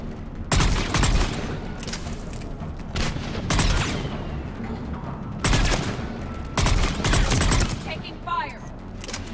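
Gunfire in the video game Mass Effect 3, loud bursts of rapid automatic shots arriving in several separate volleys with brief pauses between, set among battle noise and shouted voices.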